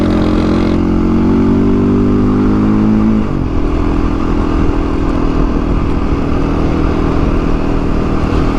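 A Beta 480 ADV motorcycle on the move, its engine loud and close with a steady throbbing drone, a gear or throttle change shifting the tone partway through, then rough continuous running over a bumpy track.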